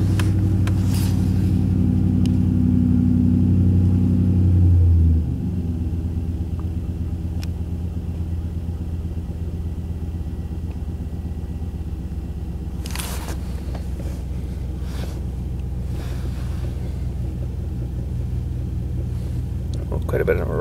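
A house air compressor fitted with changed pulleys runs with a deep, loud motor rumble that drops to a lower, steadier drone after about five seconds, with brief clanks later on and a voice talking over it.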